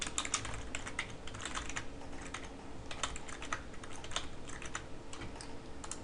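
Rapid clicking of keys as a name is typed on a computer keyboard, steady and close with short bursts and brief pauses, no voices.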